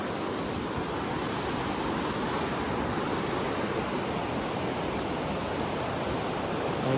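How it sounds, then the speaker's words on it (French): A waterfall on a hiking trail on Réunion island pours in a loud, unbroken broadband rush, steady and close with no voices over it. "on va pouvoir être en dessous de la cascade en gros à peu près"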